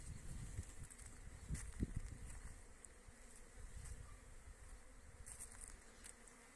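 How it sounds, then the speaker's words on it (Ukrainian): Faint, steady buzzing of many honeybees in the open, a soft continuous drone with light outdoor background noise and no voices. "бджола гудей, це є добре"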